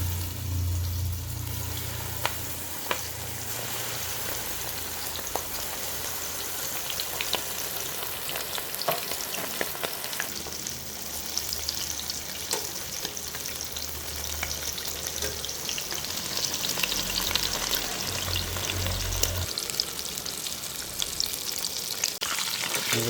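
Chicken pieces deep-frying in hot oil for homemade kunafa fried chicken, a steady dense sizzle and bubbling throughout, close and fairly loud, with occasional low knocks of stirring.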